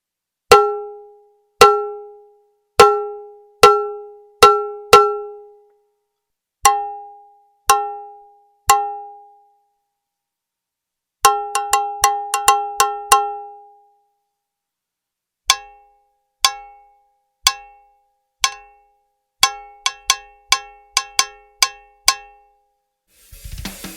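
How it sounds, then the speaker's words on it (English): Sharp, ringing Tommy Lee cowbell struck with a drumstick, loud and close, played alone in varied patterns: steady single hits, a quick flurry of rapid taps, then syncopated groups. "I think this cowbell is really going to do well for those heavy rockers"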